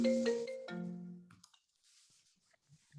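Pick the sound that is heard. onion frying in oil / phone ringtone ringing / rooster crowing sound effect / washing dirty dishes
phone ringtone ringing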